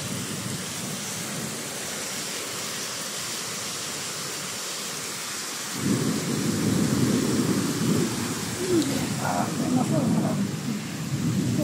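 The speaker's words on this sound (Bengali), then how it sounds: "দেখুন কত বৃষ্টি পড়তেছে এখানে।" Heavy rain pours steadily at a house on a rainy day, a dense broadband hiss that swells louder and fuller about halfway through and keeps going without a break.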